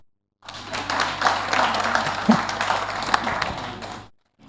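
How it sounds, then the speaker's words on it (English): An audience at a women-in-fintech hackathon session clapping, a steady patter of many hands lasting several seconds, moderately loud in a room, starting and stopping abruptly. "At least you can clap for me."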